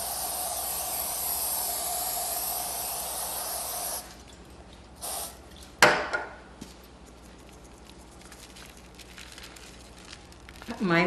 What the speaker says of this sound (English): it's scientifically sprayed with cooking spray